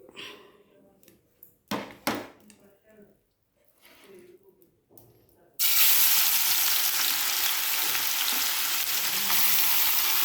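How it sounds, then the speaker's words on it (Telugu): Fish frying in plenty of hot oil, a dense, loud, steady sizzle that bursts in suddenly and holds, after a stretch of quieter clatter and talk. "ఇలా మూత పెట్టేసి నూనెలో వేయించేసుకోవడమే"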